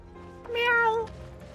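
A single clear cat meow in the video game Final Fantasy 7 Rebirth, one drawn-out, close call lasting about half a second over quiet background ambience.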